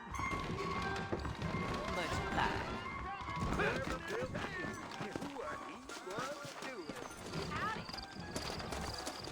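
Horse hooves clip-clop at a trot beneath talking voices in the video game Red Dead Redemption, with a faint whinny and a steady rhythmic beat throughout.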